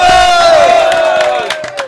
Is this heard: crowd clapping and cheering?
yes